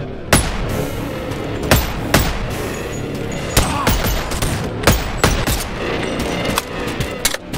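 Repeated gunshots in the VR video game Boneworks, about a dozen sharp cracks at an irregular pace, close and loud, over a steady room-like background hiss.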